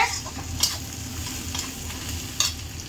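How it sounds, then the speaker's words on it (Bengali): Onions frying in a pan, a steady sizzle punctuated by a couple of sharp scraping stirs of a spatula against the pan, close and fairly quiet. "পেঁয়াজটা আমি লাল লাল করে ভেজে নেব"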